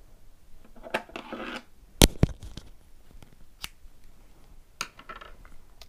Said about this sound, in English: So to do that, we're going to cut the yarn.